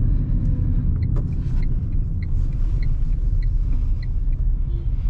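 Tata Tiago NRG car driven and turned around, a steady low engine and road rumble throughout with faint ticking clicks, probably the turn indicator, no talk.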